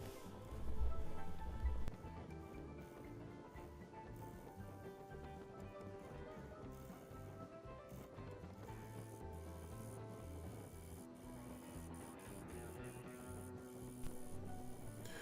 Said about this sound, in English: now I'm using a shearing cut to work away at the tenon, getting it down so it's flat